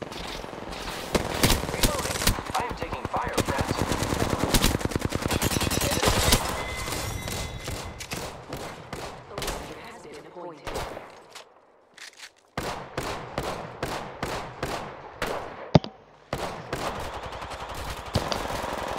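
Rapid bursts of automatic gunfire rattle in an Apex Legends match, dense volleys followed by a short lull and then sharper, spaced single shots.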